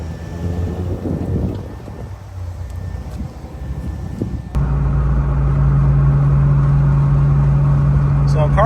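A Nissan Skyline R34 GTT engine idles with a steady, close, droning hum that settles in partway through, after a stretch of rumbling wind buffeting against the microphone.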